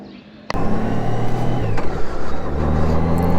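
A Honda Goldwing motorcycle engine starts up loud and close after a quiet moment, then settles into a steady rumbling idle with small rises in revs.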